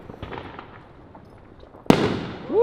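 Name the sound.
fireworks whistling, crackling and booming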